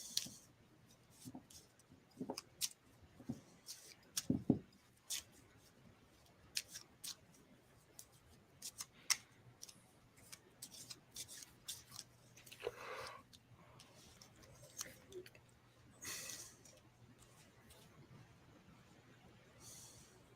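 Oracle cards shuffled by hand at a live reading, in irregular soft riffles and taps with brief pauses, fairly close and quiet, with occasional faint background sounds.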